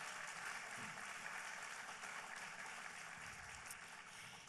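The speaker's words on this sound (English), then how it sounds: "How about a nice round of applause for all of our hardworking judges?" An audience at the Mrs. International 2017 pageant finals applauds the judges, a dense steady wash of clapping from a large crowd that holds evenly through the whole stretch, distant and faint, with no voices over it.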